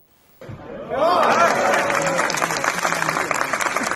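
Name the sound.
clapping, applause at official event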